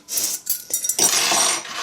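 Metal hand mixer beater attachments handled in a kitchen: bright, jangling clinks and scrapes of metal against metal, close and fairly loud, in two quick bursts.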